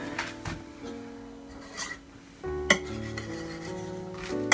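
Mawa being stirred in a hot pan at home for malido, giving scraping and clinking of a metal spoon against the pan, with a few sharper clinks and steady rubbing strokes.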